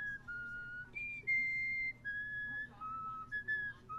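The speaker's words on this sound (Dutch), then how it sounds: "Dit is een vogel die het Harry Potter teamsong fluit." A bird whistles the Harry Potter theme, a clear melodic sequence of pure sustained notes rising and falling, with faint background noise.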